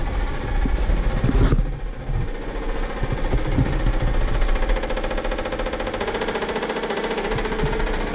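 A 1972 VW Bus engine with engine problems runs loudly and steadily, a close, heavy rumbling roar with a sharp knock near the start, no voices over it.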